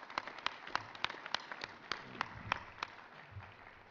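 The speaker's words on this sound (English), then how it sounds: "Let's give these folks a round of applause." Applause for a panel at an investment forum on US unconventional oil, heard as faint, sparse, distinct claps at a fairly steady pace rather than a full ovation.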